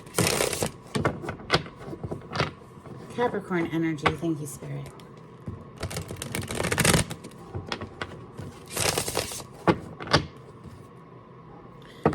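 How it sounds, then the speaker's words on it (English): A deck of tarot cards riffles and slaps in repeated bursts of shuffling, close and crisp, while a voice speaks softly in between. "Some decks are a lot easier to shuffle than others."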